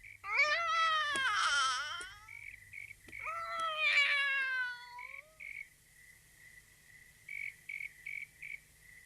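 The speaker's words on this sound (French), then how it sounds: "Viens ici, mon chat, viens ici." A cartoon cat meows twice, each a drawn-out, falling cry, close and clear against an otherwise quiet night outdoors. A faint, steady chirping like crickets continues underneath and carries on alone afterward.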